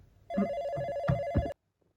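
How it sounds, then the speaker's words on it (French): A telephone in a video game rings once with a clear electronic bell tone lasting just over a second, close and alone, then cuts to silence. "Tiens, un téléphone qui sonne."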